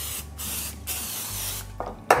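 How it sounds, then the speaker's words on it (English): Nonstick cooking spray hisses onto a baking dish for sweet Mexican cornbread in a kitchen. Three close, airy spray bursts follow one another, with a small clink at the end. "I'm gonna spray the dish with nonstick spray."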